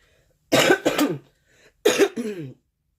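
Two bursts of harsh, hacking coughs close up, each a quick double cough separated by a brief pause.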